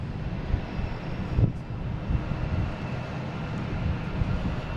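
An Airbus A380 airliner approaching Boston Logan airport gives a faint, distant low rumble, steady and soft beneath light wind noise, with one brief swell partway through.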